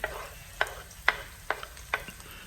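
Garlic fries with onion in a pan for chicken adobo, a quiet steady sizzle broken by five evenly spaced scrapes of a stirring utensil, with no talking.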